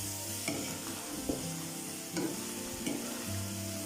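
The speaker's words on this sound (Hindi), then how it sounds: "अब हम इसको अच्छी तरह हिलाते हैं।" Lahori keema sizzles in a hot pan as a spoon stirs it, with a few scraping clunks against the pan over a constant loud frying hiss, close up and without talk.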